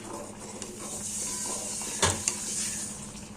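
A pan of fish curry bubbles and sizzles steadily up close, with a couple of sharp utensil clinks partway through.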